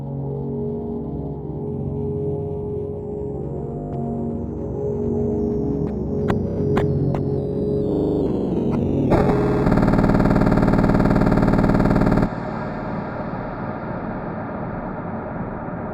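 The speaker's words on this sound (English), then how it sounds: "Eventually, the track slows down to a crawl, and clipping and distortion drown the song out into pure emptiness" A Minecraft music track slows to a crawl, tones sliding downward until a harsh, clipped, distorted roar takes over for a few seconds, then drops into a thin, hollow hum.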